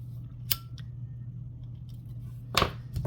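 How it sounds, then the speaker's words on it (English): Tim Holtz scissors cutting fabric close to the stitching of an embroidered in-the-hoop bag: two crisp, close snips about two seconds apart over a low steady hum. "Then I have these Tim Holtz scissors, and these are amazing. And I cut pretty close to my stitching."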